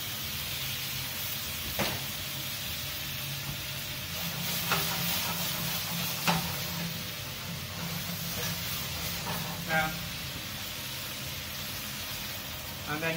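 White wine poured into a hot pan with shellfish sets off a soft, steady sizzle and hiss, with a few sharp clinks and stirring knocks, heard fairly quietly in a kitchen.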